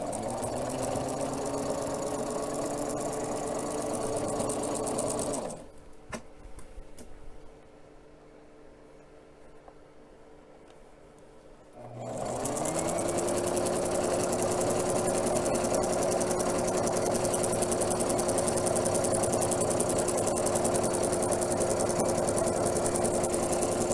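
A sewing machine stitches along a fleece rat cage mat, its steady whirring motor running loud and continuous, cutting out for several seconds mid-way before resuming at full speed.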